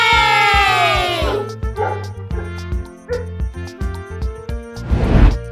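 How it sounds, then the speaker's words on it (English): A dog gives a sustained whining yelp that slides downward, then short yips, all over an upbeat children's music backing with a swoosh near the end. "that is a dog."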